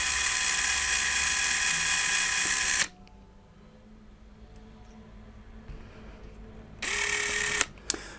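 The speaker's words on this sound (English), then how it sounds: "Go for a smaller drill bit and just try and find" A power drill fitted with a smaller bit bores out the pins of a Honda Civic MK8 power folding mirror, running as a loud steady whine, stopping for several seconds, then starting again briefly before a couple of sharp clicks.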